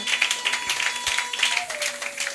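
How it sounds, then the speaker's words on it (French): Audience clapping in acclamation at a church worship gathering, brisk and continuous across the moment, with a faint sustained tone running beneath. "Est-ce qu'il y a moyen de répondre cela par une acclamation pour le Seigneur?"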